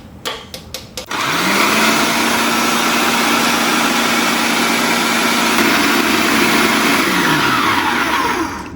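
Food processor blending chive pesto with lemon juice and Parmesan cheese: a few clunks, then the motor spins up into a loud steady whirring grind and begins winding down at the end.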